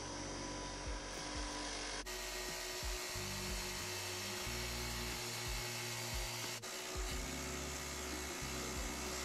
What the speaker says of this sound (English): I can use the wire wheel to blast off all of that rust.